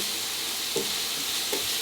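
Bacon, onions and garlic frying in a pan, a steady close hiss with two soft stirring scrapes.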